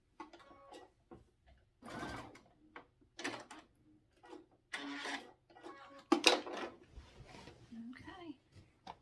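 A sewing machine stitches quilt binding in short bursts of rapid mechanical whirring, separated by pauses, with someone talking quietly in between.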